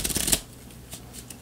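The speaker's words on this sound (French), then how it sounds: "Et puis on brasse les cartes." A deck of tarot cards being shuffled by hand, a quick close riffle burst at the start followed by fainter, softer card handling.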